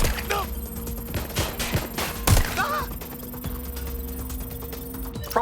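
Gunfire in the video game Watch Dogs: Legion comes as scattered sharp shots and bursts, one louder crack near the middle, over a steady game hum with a voice talking.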